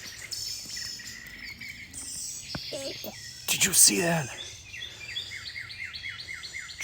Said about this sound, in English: Oh, the birds are fighting.